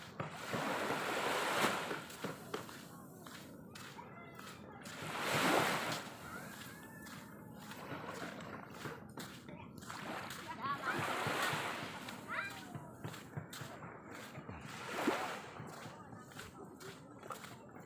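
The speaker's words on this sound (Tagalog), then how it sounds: "sarap maglakad dito sa tabing dagat" Waves wash onto a sandy beach of fine white sand, swelling and receding in repeated surges with steady surf hiss, while someone talks over them.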